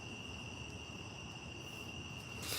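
Steady, high-pitched insect buzzing drones on continuously, like cicadas in the distance, with a faint rise in hiss at the end.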